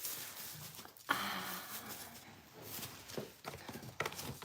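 A young buckling goat's hooves clatter around indoors on a farm, irregular close clip-clop steps and scuffs with a few sharper knocks.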